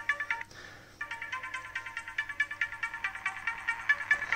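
A PinePhone Pro plays a repeating ringtone during a call: a steady, fast pulse of bright electronic beeps that runs throughout, broken by two short gaps, with no speech.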